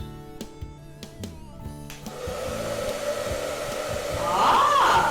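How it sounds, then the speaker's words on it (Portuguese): A hair dryer switches on after a few clicks and blows a steady, loud air jet that swells stronger near the end, with no talking. "se eu colocar em cima de um jato de ar, que neste caso será o meu secador"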